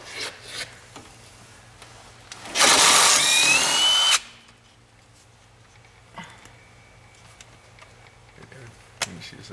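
A power tool spins on a Jeep steering stabilizer clamp in one loud whirring burst of about a second and a half, with a rising whine, amid quieter clanks and bits of talk.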